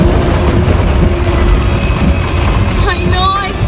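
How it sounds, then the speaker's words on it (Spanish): Heavy rain and hail pour down steadily during a storm at a house, a dense, loud, constant roar with high whistling tones near the end. "Ay no, está horrible, Merlines. Y hay granizo."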